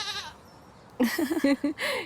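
Goat in a home garden bleating twice in quick succession, a nearby wavering cry after a brief quiet stretch, with a short cry at the very start and no talk.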